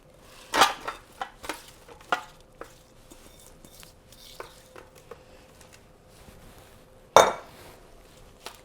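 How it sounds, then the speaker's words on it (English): Apple slices drop into a pan for a Thanksgiving crumble, making a cluster of sharp clatters and taps early on, quieter scattered clicks in the middle, and one last loud clack near the end. "We're going to add our apple slices."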